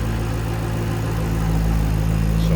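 Supercharged 5.4 liter V8 of a 2008 Ford Mustang Shelby GT500 idling steadily and smoothly, a close, continuous low rumble with no talking.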